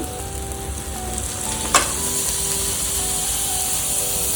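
Paneer frying in an oily, well-cooked masala for a hotel-style Marathi paneer dish, a steady close sizzle with a brief sharper burst as it is stirred, and no talking.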